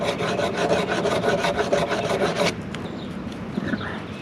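Steady scratchy rubbing of sanding on wild turkey feather fletching bases, close and continuous with quick back-and-forth strokes for a couple of seconds, then quieter scraping.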